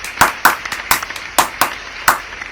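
Audience applause at a rap music showcase: a handful of sharp, separate claps spaced irregularly over a couple of seconds, sparse rather than a full ovation.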